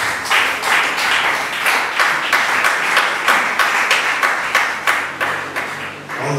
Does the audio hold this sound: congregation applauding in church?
yes